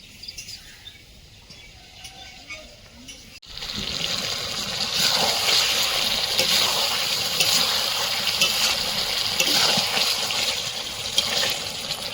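Water poured into a pot of Bengali chicken curry with potatoes, a steady rushing splash that starts abruptly after a few quiet seconds and carries on loud and close to the end.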